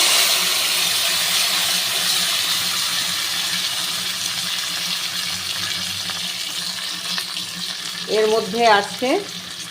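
Cumin, coriander, ginger and green chili paste hits hot tempered oil in a pan, giving a steady, moderate frying hiss and crackle, and a voice comes in near the end.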